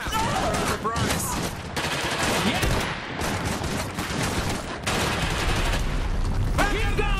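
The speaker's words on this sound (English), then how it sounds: "They're shooting here!" Sustained automatic gunfire and bursts of shooting from a battle in the mechs-and-infantry strategy game Iron Harvest, loud and dense throughout with brief lulls, voices mixed in.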